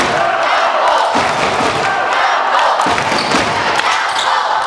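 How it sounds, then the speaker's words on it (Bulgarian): Spectators in a packed arena keep up a steady, loud roar of cheering and chanting for the home side at a handball-style semifinal between Tundzha Yambol and Levski Sofia, with thumps and bursts swelling through the continuous crowd noise. "чувате публиката, която окуражава нашите"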